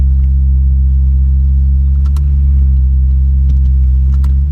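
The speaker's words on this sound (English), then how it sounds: "let's go for a drive" A car engine hums with a steady low rumble from inside a moving vehicle, constant and loud with faint clicks on top.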